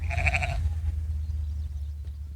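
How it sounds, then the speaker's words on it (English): A sheep bleats once, loud and close, in an outdoor field, then the bleat trails off and steady low-pitched background noise continues alone. "I was happy to visit with the sheep."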